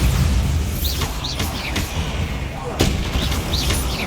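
A Bombarda explosion spell goes off in Hogwarts Legacy, booming blasts and whooshing magical whistles over a loud, dense rumble of combat with a sharp crack near the end.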